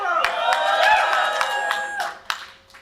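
An audience at a hacker conference demoscene session cheers and claps for the demo Second Reality, loud shouting voices layered over scattered hand claps, fading out within about three seconds.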